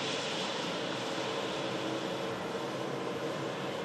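An Embraer 190 LR airliner arriving from Helsinki gives a steady, broad roar of jet engines, continuous and fairly loud throughout with no voices.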